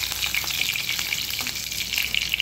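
Curry leaves and green chillies sizzle steadily in hot oil in a pan while being stirred for a potato sabzi, a close, continuous crackling hiss with small spatters and no talk.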